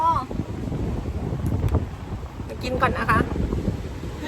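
Steady wind rumbles and buffets against the microphone throughout, outdoors in a village in Busan, South Korea, with someone speaking briefly over the blustery noise.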